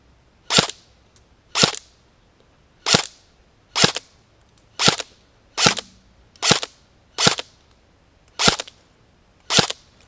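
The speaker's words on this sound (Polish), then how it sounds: "Ok, 10 strzałów za nami." Ten sharp shots from a Force Core 109 airsoft replica firing 0.25 g BBs, each a crisp, snappy crack spaced about a second apart at a steady pace, close and clear against a quiet background.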